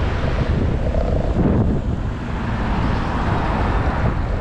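Strong gusts buffet an outdoor microphone in a steady, loud low roar with no pause, lasting throughout, and no voices are heard.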